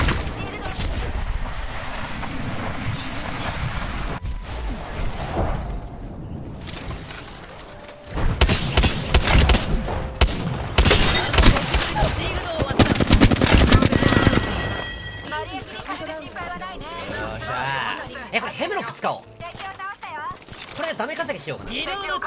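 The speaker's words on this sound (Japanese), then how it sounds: "射撃中。" Rapid automatic gunfire and bursts from a shotgun-style weapon during an Apex Legends match, loud and dense throughout, with in-game voice callouts and a player talking over the shooting.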